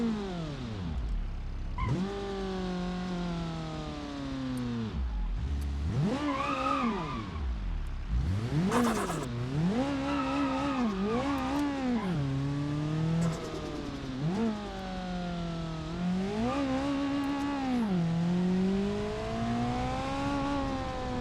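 A turbocharged, twin-charged car engine in BeamNG.Drive revs and climbs through repeated rising and falling pulls, loud and close, with brief lifts between bursts and a steady whining drone throughout.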